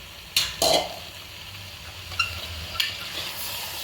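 Mixed vegetables, including eggplant, capsicum and cauliflower, are stirred in a frying pan, with a soft sizzle beneath a few sharp scrapes and clinks of a utensil against the pan.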